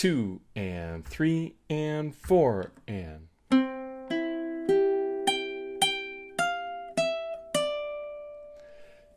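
Ukulele picks out the opening measure, clear plucked notes ringing and sustaining in an even, unhurried rhythm, preceded by a brief spoken count-in.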